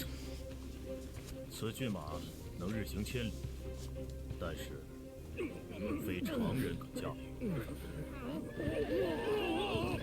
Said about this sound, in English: Yeah, that's Lu Bu's horse, I think.